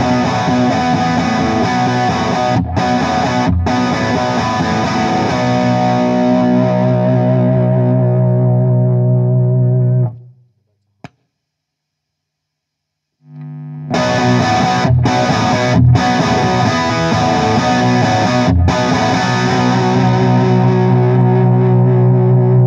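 A Marshall 2555X Silver Jubilee guitar amp plays a distorted electric guitar riff at high output, stops for a few seconds, then resumes the same heavy, saturated playing on the low output setting.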